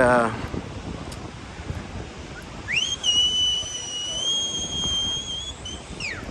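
A long, steady high whistle rises in, holds its pitch for a few seconds, then slides down, heard some distance away over wind noise.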